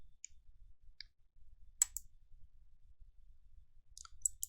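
Several faint, sharp mouse clicks land irregularly while an Excel chart is formatted, some alone and some in quick pairs, over a near-silent background.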